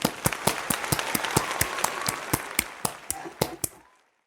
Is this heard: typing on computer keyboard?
no